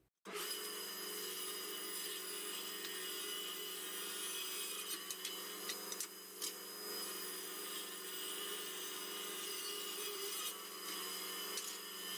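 Steady, continuous sawing through wood, a dense raspy rasp that runs nearly unbroken for about twelve seconds, close and fairly loud, no voices.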